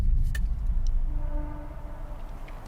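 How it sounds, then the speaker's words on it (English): A train passes at a distance beside woods, giving a steady low rumble with faint tonal hums that slowly fade, with no voices present. "That's just a train."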